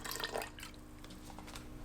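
Apple cider vinegar, about a tablespoon, pours into an Instant Pot with quick wet splashes and drips over a faint steady hum, close and soft, lasting under two seconds.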